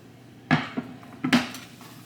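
Onions dropped into a cooking pot partly filled for Thanksgiving greens, a few sharp clunks and knocks against the metal in two short clusters, close and otherwise quiet.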